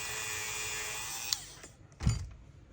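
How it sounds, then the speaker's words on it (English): Dremel rotary tool briefly grinding away buildup at the base of a knife blade, a short high whirring burst that stops, then a quick handling clatter. "I am going to take my Dremel right here, just because at the base of the thing, looks like there's a little buildup"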